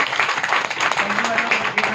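Audience applause at a community success-story gathering: a dense, steady wash of many hands clapping for two seconds, with a voice faintly audible underneath.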